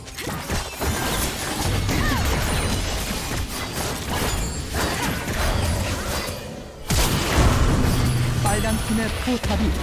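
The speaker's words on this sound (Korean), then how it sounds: "포탑이 파괴되었습니다." A turret crumbling apart in League of Legends: loud crashing, grinding mechanical clatter that fills the moment, with a voice talking over the destruction.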